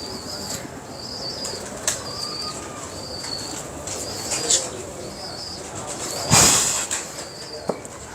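Pigeons kept for about 35 years give repeated soft coos and several bursts of wing flapping, close by, with a louder flutter near the end and no talking.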